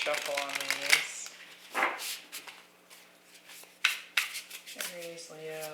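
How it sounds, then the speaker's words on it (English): Tarot cards are shuffled in quick riffling bursts and soft slaps at close range, while someone talks over and between them. "Get a good shuffle on these."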